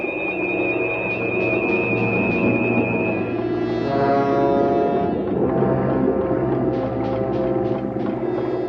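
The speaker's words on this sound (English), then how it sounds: "High-frequency sound to repel the fish." A high-frequency sound meant to repel fish, a sci-fi effect from the TV series Voyage to the Bottom of the Sea, forms a loud, continuous electronic drone of layered humming tones with warbling shifts and bursts of pulsing high chirps.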